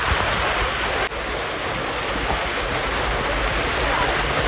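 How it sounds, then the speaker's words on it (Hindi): A waterfall in Pachmarhi rushes in a dense, steady roar close to the microphone, with wind buffeting mixed in and no break throughout. "You can see this waterfall."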